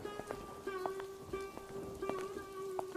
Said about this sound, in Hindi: रास्ते में ठंडी हवाएं चल रही थीं और बारिश की बूंदें धीरे धीरे गिरने लगी थीं।